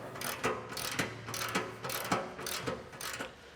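Ratchet wrench tightening bolts on an ATV snow plow mount to about 17 foot-pounds, a close, steady run of rapid clicking strokes repeated several times with brief pauses, no talking.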